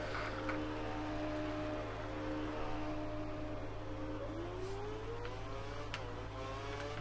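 A Mercedes Formula 1 car engine in the F1 2013 racing game at the Australian Grand Prix in Melbourne, a steady loud whine with rising pitch sweeps as it accelerates, over a constant low drone, with no talk.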